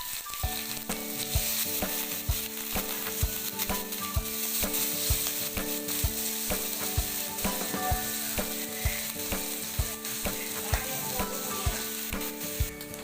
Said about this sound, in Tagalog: Prito-prito rin muna natin.